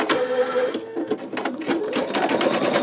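Embroidery sewing machine stitching the body of a bumblebee quilt block, a steady rapid needle chatter with shifting pitch, close and loud throughout.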